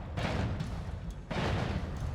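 Wand spells explode in the video game Noita, a dense stream of crackling booms and gunfire-like blasts that roars on without pause and surges louder partway through.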